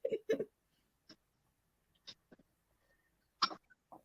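A few sharp coughs sound close by, a quick pair at first, then scattered single coughs separated by quiet pauses.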